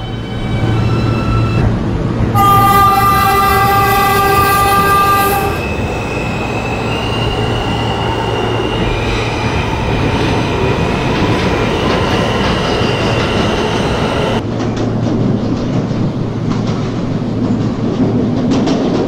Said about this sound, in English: This is a Rockaway Park bound A train.